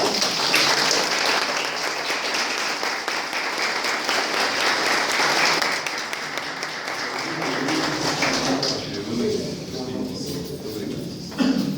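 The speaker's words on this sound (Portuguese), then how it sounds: "Uma salva de palmas." Sustained applause from a large audience at a conference fills the space, gradually thinning out toward the end.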